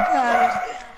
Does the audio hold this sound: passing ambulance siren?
no